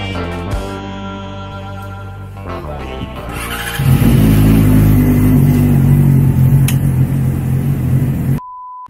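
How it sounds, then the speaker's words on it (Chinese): Loud vehicle exhaust pipes roar and rev at close range, rising into a sustained blaring engine drone with higher squealing tones, heard during a round-island road trip before the sound cuts off abruptly. "你们刚刚见识到他们排气管的威力，真是有够吵啊！"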